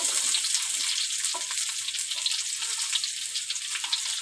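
Onions for potato perkedel fry in hot oil in a pan, giving a loud, steady crackling sizzle with scattered pops throughout, close up and without talk.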